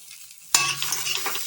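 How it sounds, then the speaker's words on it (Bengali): Moong dal being stirred in a wok, starting abruptly after a quiet moment with a loud scraping stir, then a steady close sizzle with further soft stirring scrapes. "এবারে কড়াইয়ে হালকা নেড়ে জল দিয়ে সেদ্ধ করে নেব"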